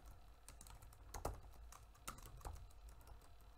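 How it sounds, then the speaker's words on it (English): Keyboard typing while entering C# code for a Code Wars kata, with irregular clacking keystrokes at moderate volume that cluster into a few sharper strikes, and no voice over it. "I'll type it out exactly how they had it"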